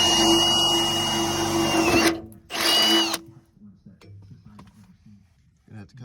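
A power tool cuts loudly through the body metal of a Mustang GT near the frame rail, grinding steadily for about two seconds, pausing briefly, then returning in a second harsh burst before fading into quieter clinks and handling noises.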